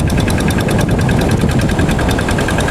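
Tractor engine ploughing sand to cut a water channel from the river to the sea on Parangtritis beach, a loud close rhythmic knocking chug running continuously with no pauses.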